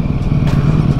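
A big-engined Ducati motorcycle rumbles steadily while riding slowly through town, a deep, loud, continuous engine drone with a slightly uneven clattering pulse and no talking.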